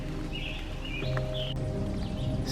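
Birds sing in wet, muddy woods at Iroquois Park on a dark, foggy, rainy May morning, with a few short, faint chirps and whistles over a steady hiss.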